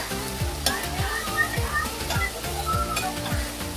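Shredded cabbage is stirred in a frying pan, rhythmic scraping strokes of a spatula over a constant sizzle, close and continuous with no talking.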